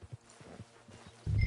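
Horse hooves in Red Dead Redemption 2 clop in a few soft, uneven steps, as if walking at close range, before a louder burst of low noise cuts in at the end.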